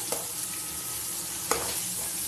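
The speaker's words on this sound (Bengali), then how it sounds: "আর এই উচ্ছেগুলো একটু তেলের মধ্যে নাড়াচাড়া করে দেবো, তাহলে পরে ভাজাটা ভালো হবে।" Bitter gourd pieces coated in salt and turmeric are stirred in hot oil in a pan, with a steady soft sizzle and two brief scraping strokes of the spatula, close and alone without talk.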